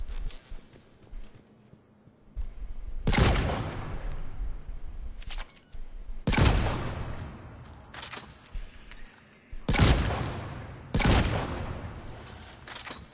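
Eviscerator shotgun in Mass Effect 3 fired at short range: four loud, sharp blasts spaced a few seconds apart, each with a quick decaying tail, over a low background hum.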